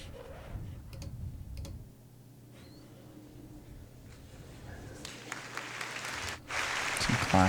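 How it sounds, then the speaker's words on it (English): Audience clapping opens a live concert album with an 80s-era set: broadband applause swells near the start, thins in the middle, then rises again louder toward the end, with some voices mixed in. "Some clapping. It's always good intro."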